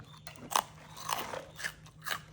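Crisp, loud crunches of someone biting into a crunchy snack, several sharp bites spaced unevenly over quiet background.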